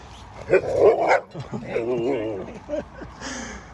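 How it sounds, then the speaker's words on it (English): Dogs bark in a few short, lively bursts on a countryside ramble near Chenies in the Chess valley, close by, while people talk around them. "Beautiful dogs."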